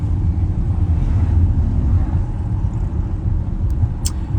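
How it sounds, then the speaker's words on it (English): A very loud motorcycle rumbles steadily and close, a deep continuous engine drone with some wind noise, heard alone without talk. "I have a very loud motorcycle"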